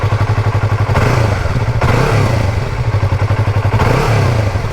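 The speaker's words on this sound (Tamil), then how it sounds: "எக்ஸாஸ்ட் ஆன் பண்ணி சவுண்ட் காட்டுறேன், நீங்களே கேளுங்க" Yamaha YZF R3 twin-cylinder motorcycle running with its exhaust close by, a loud rhythmic throbbing idle that swells in short blips of revving.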